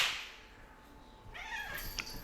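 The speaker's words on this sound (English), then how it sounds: "Sorry guys, cats are fighting again." Two house cats fighting indoors, with short yowling, caterwauling cries rising near the end over a quiet room.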